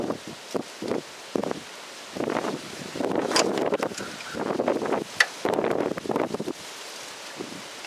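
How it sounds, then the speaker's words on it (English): Gusty outdoor wind buffets the microphone in irregular bursts of rumbling noise, with brief calmer gaps between gusts. "Kind of windy today"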